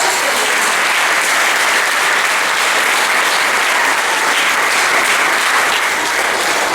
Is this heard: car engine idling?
no